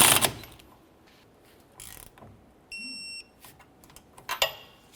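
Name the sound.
tightening rear shock nut on Ford Explorer Sport Trac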